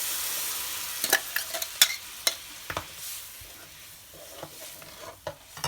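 Malvani fish curry masala paste is stirred with water in a pan: a spoon scrapes and clacks in irregular bursts over a low simmering hiss, with no talking.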